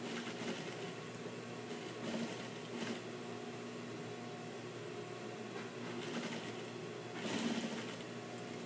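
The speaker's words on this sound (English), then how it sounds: "I'm sewing in that same stitching line that I sewed the lips on." A sewing machine stitches a besom pocket along an earlier stitching line in a continuous, even mechanical whir, with slight surges in speed and no talking.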